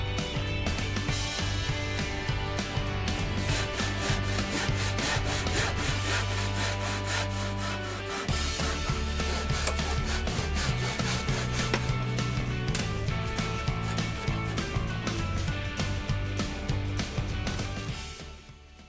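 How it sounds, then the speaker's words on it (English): A hand saw cuts wedges from scrap pallet wood in fast, steady back-and-forth strokes, loud and close, with a brief pause midway before the sawing resumes. "Wedge shapes are drawn by eye on the scrap wood and then cut out."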